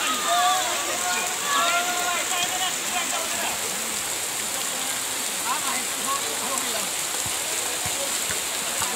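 Steady rain falls during a village football game, a dense constant hiss of droplets heard close and loud throughout. Voices talk over it in places.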